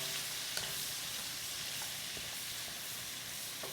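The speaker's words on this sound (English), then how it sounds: "We're going to go ahead and slide all of our onion on there. And we just want to saute those till they're nice and tender." Chopped onions sautéing in melted butter for beef filet and noodles give a steady, close frying sizzle with faint stirring scrapes, alone without talk.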